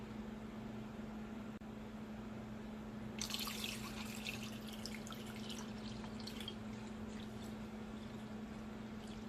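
Fresh water pours in for panning gold pay dirt, a bright splashing gush starting a few seconds in and continuing steadily over a low constant hum.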